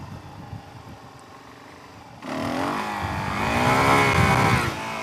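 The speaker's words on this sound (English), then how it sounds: "And that engine braking." A Suzuki DRZ 400E dirt bike cruising country roads shifts from quiet idle-like rumble to a loud, close engine drone that rises and falls as it engine-brakes, cutting off abruptly near the end.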